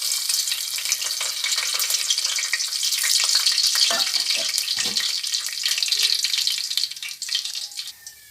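Ingredients for a seeraga samba mushroom biryani fry in hot oil and ghee, a steady, loud, close crackling sizzle with a few thumps of stirring in the middle, fading slightly at the end, with no talking.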